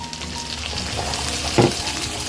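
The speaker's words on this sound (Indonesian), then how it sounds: "Ditumis-tumis lagi sampai bawang merahnya ini juga mengeluarkan aroma yang harum ya dengan cabai rawitnya" Sliced shallots and bird's-eye chilies sauté in hot oil in a pan, giving off a steady, close sizzle with a soft stir scrape partway through.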